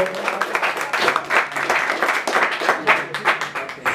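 Audience applause at a mariachi performance for a graduation celebration, a fairly close, steady patter of clapping with slight swells lasting throughout, with no voices standing out.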